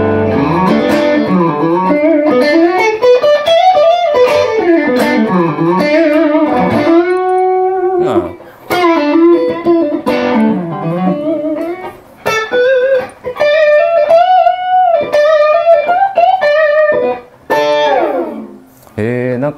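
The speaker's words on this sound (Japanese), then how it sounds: "グリーンタイズ、あ、ちょっと歪み系、音張り合ってすごい気持ちいい。" Electric guitar played through a distortion preset on an Eventide H90 multi-effects pedal, loud sustained overdriven notes and bends in melodic phrases with brief pauses between runs.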